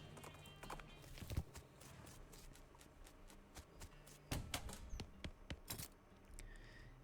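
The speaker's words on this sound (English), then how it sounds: "The horse reluctantly agrees, trots off, leaving the binoculars." A horse trots off in the video game West of Loathing, with faint hoof clip-clops scattered over a quiet ambient background, a few sharper taps standing out near the end.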